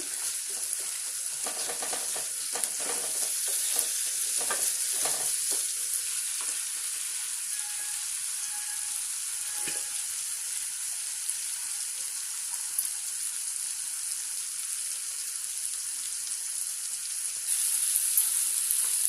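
Turmeric frying with tomato pieces in a hot pan for a village-style dried fish curry, a steady hiss of sizzling oil with light stirring scrapes early on, no voices.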